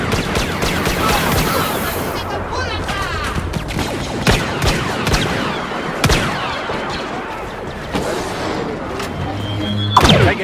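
Rapid blaster fire from a Star Wars Battlefront battle, bursts of sharp zapping shots and crashing impacts layered densely for the whole stretch, loud and close, with muffled voices under the barrage.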